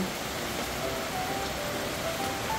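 Steady rain during the rainy season falls in a dense, even hiss around a house in Moncada, constant and close with no voices.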